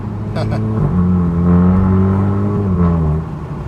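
A Cupra 300 DSG with a VAGsport resonator-delete exhaust revs loudly up close, its engine note rising and holding, with a couple of brief crackling bursts.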